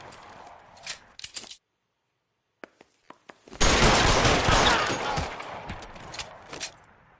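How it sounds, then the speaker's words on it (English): Gunfire in the L.A. Noire video game: a few scattered shots, a brief pause, then a loud sustained burst of rapid fire that tails off, close and harsh. "Shots fired and officers need help at 1452 North Las Palmas."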